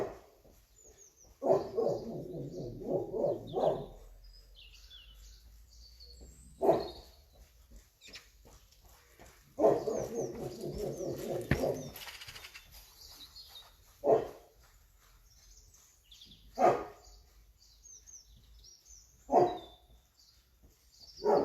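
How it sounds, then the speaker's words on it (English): A neighbour's dog barks in the distance in separate bursts, some in short clusters and others as single deep woofs, with quiet gaps between them outdoors. "Neighbour's dog joining in."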